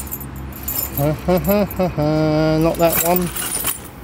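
A bunch of keys jangles and clinks near a door of an abandoned convent, with bright metallic rattles at the start and end while someone talks in between.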